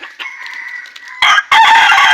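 A fighting rooster crows close by, a short clear call followed by a louder, sustained cock-a-doodle-doo that cuts off abruptly.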